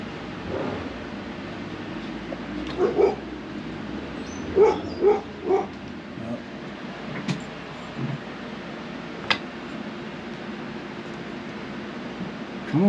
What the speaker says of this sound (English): This damn dog.